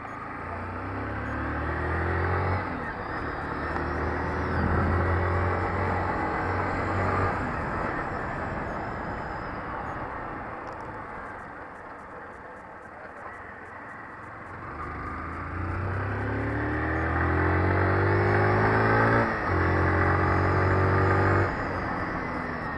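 A motorcycle engine climbs through the revs while riding on a road, harmonics rising in pitch in repeated pulls, easing off in the middle before accelerating hard again, loud and close with wind roar.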